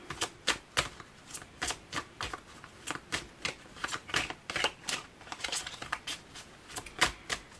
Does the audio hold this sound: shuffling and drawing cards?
yes